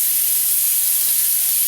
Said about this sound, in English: Gotta love the sizzle.